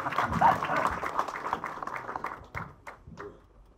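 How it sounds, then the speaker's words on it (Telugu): Applause from the crowd at a film audio launch event, a burst of clapping that swells early and then thins into scattered claps, with some voices mixed in. "ఈ మాటకి చప్పట్లు కొడతానని ఆశిస్తున్నాను"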